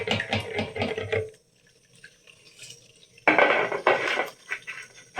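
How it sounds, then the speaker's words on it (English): Nigerian local rice washed with salt in a pot, close clattering and swishing of grains and water against the pot in two bursts separated by a quiet pause. "I always like to use salt to wash my rice if I'm not parboiling it"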